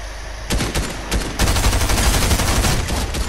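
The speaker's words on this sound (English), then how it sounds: "He's still shooting at me." Rapid, loud bursts of gunfire in the Fortnite video game, close and continuous, with the shots packing into a heavier, denser volley about halfway through.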